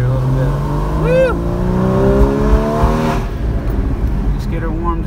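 Porsche Cayman 981 GT4 with a manual gearbox cruising gently on a track, its engine a steady loud drone rising and falling in pitch with gear changes, a voice whooping and talking over the top.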